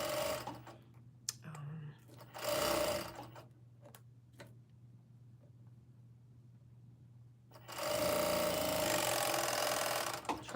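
A home sewing machine stitches in short, brisk bursts over a steady low hum, with quiet ticking and clicking between runs before a longer, louder stretch of stitching at the end.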